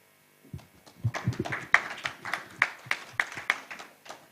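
Workshop audience clapping in a modest room, scattered hand claps building into an uneven, moderately loud ripple of applause that stays fairly sparse and close.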